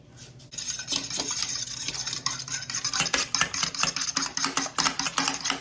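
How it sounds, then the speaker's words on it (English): A whisk beats eggs and milk in a bowl, quick rhythmic clinking and scraping strokes repeating close and clear throughout. "Mix it up, whisk it up, mix it up, beat it up"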